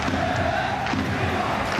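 Live crowd noise at an esports football championship group stage, a steady, dense roar of cheering and chatter from a large audience filling the whole moment without a break.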